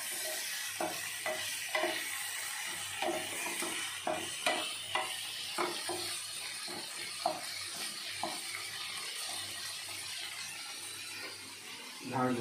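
Food frying in a pan in a home kitchen, a steady sizzle with repeated scraping and stirring strokes at an irregular rhythm, moderately close, with faint voices now and then.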